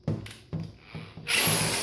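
Power drill boring a hole for a homemade fishing rod holder, short bursts of whirring that rise into a loud, steady grinding at the end, close up with no talk.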